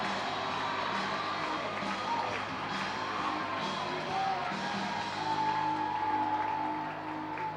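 Steady crowd noise from fans at a minor-league baseball game in Reading, cheering and shouting continuously after a solo home run to right field, a broad sustained roar with scattered claps.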